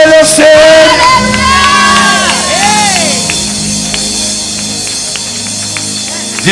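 A church congregation at a praise and worship service shouts, whoops and cheers in acclamation, a loud sustained crowd roar with high voices rising and falling.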